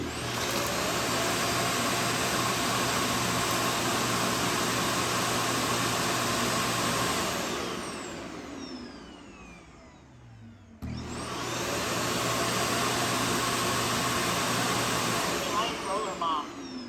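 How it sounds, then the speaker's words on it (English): SwitchBot S10 robot vacuum dock emptying dust, a loud steady suction roar running for about seven seconds, fading out, then starting again for a second long burst, close by. "Starting to empty dust."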